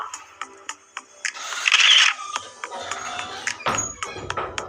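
The 13-megapixel front camera of a Redmi Note 10S smartphone takes a selfie, giving a short electronic shutter sound among a few quiet clicks and pings, close and clear.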